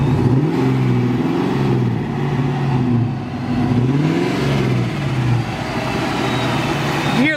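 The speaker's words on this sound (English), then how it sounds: "pop-off valve going on the supercharger" A 1968 Firebird with a Procharger-supercharged LS1 V8 revs hard several times up close and loud, the engine note climbing and falling, with a sharp whoosh of the supercharger pop-off valve near the end.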